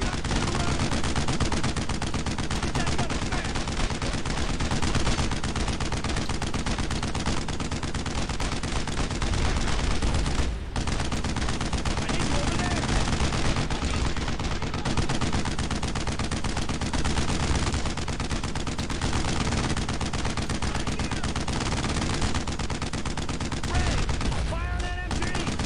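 Sustained, dense gunfire from an enemy machine gun in the World War II shooter Brothers in Arms: Road to Hill 30, loud and continuous with rapid bursts layered over battlefield noise, one brief gap near the middle.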